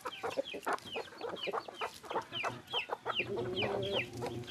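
Backyard chickens eating rice, with repeated rapid clucks and chirps from several birds close by, busy and continuous throughout.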